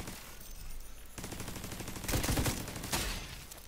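Turret gunfire in the video game The Division 2 during a Tidal Basin stronghold fight, a long stretch of rapid automatic bursts that swell louder midway, with heavy distant impacts under the constant rattle.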